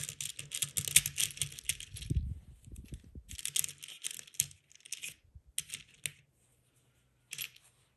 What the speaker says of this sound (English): you pop it on and squeeze until you hear that click, and that's enough to secure it in place.